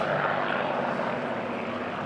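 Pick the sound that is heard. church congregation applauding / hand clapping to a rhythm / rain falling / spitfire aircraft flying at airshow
spitfire aircraft flying at airshow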